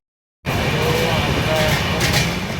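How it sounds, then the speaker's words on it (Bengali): The Kumbha Express rolls out of Howrah past Liluya, heard from inside the carriage as a steady low rumble and rattle that starts abruptly after a brief silence and continues evenly, close and fairly loud. "হাওড়া থেকে লিলুয়া ছেড়ে ট্রেনটা যাচ্ছে। আমরা আছি হচ্ছে কুম্ভ এক্সপ্রেসে।"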